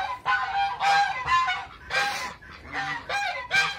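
Kars geese honking in a poultry coop, a close flock giving rapid repeated loud honks in quick overlapping bursts with brief gaps between them.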